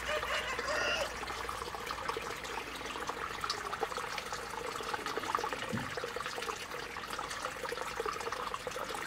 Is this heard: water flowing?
yes